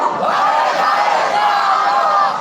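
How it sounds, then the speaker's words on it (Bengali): A large crowd at a live Bengali Islamic sermon gathering loudly chants the slogan Nara-e-Takbir, a sustained, dense roar of many voices filling the whole stretch. "সম্মিলিতভাবে একটা স্লোগান হবে নারায় তাকবীর"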